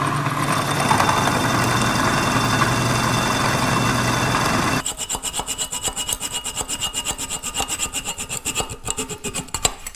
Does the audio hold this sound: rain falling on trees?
no